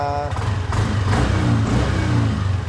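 A car engine revs up after repair work, its steady mid-pitched roar rising and holding loud and close for a few seconds, with no talking over it.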